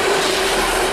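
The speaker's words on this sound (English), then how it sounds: "Not expecting a coal train this early morning." A coal train rolls past on the rails in a continuous loud rumble and hiss, with a faint metallic whine of wheels running through it.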